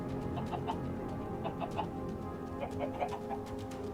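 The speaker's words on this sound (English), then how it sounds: "Chickens down here." Chickens in the Minecraft video game cluck in short, repeated bursts, a few soft game-style clucks spread across a quiet background.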